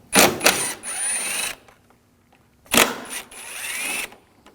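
A power tool drives a T30 socket to back screws out of an Audi S4, heard as two loud, close whirring bursts with a short pause between them and no voice.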